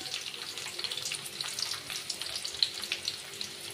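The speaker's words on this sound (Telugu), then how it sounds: "ఇవి కూడా ఫ్రై చేసుకోవాలండి." Okra, onions and green chillies frying in a pan, a soft, crackling sizzle with small popping bursts, close and fairly quiet.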